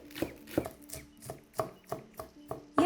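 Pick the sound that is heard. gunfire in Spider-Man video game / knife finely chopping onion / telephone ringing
knife finely chopping onion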